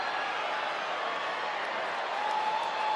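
Crowd noise at a Seattle at Texas Rangers baseball game, a steady, broad roar from the stands that swells slightly toward the end, heard from a distance.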